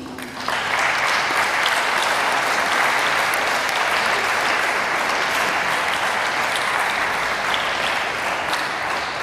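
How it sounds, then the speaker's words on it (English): An audience at a university research day public forum applauds the team with dense, steady clapping that stays loud and even from start to finish, with no voices over it. "So I think we can also clap the team."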